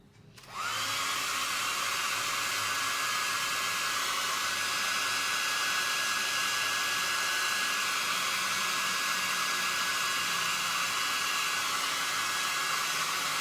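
Hair dryer switched on and blowing a steady, loud whooshing roar while drying a painted plaster boy figure; continuous after a brief start, with no talk.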